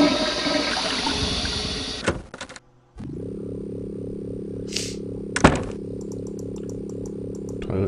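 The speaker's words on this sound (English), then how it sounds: "You flush the toilet." A toilet flushes in the Leisure Suit Larry 6 computer game: a sharp clunk, a brief gap, then a steady mechanical whooshing drone with a small bright splash partway through.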